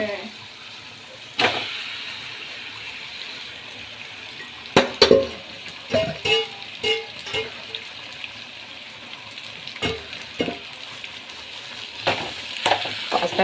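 Pasta sizzles and fries steadily in a pan, broken by sharp clinks and scrapes as it is stirred, the hiss constant underneath while a person talks at intervals.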